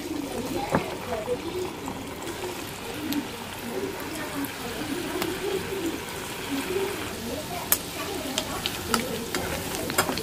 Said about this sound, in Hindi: पकौड़ा को फ्राई कर लूँगी।